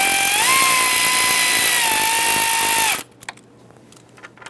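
A power tool on a Dodge Grand Caravan 3.6L whines loudly and steadily as it runs bolts down for about three seconds, pitch dipping slightly under load, then stops abruptly, leaving faint clicks and handling noises.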